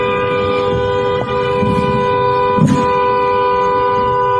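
A car horn honks on a road, a sustained steady tone held throughout with a couple of brief louder bumps, loud and close.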